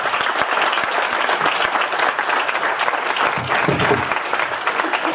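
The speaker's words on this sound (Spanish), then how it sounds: "Así que, pues, un fuerte aplauso." Loud, sustained applause from a lecture audience, dense and even throughout with no let-up, close and full.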